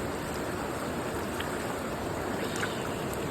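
Steady rushing flow of a river near the Manokamana temple area in Nepal, continuous broadband water noise close by with no voices.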